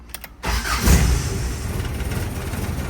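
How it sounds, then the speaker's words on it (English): Datsun car starting with a turn of the key: a brief cranking whirr, then the engine catches with a loud close roar and settles into a steady, rough idle. "This is not in the script, but I'm gonna turn the key"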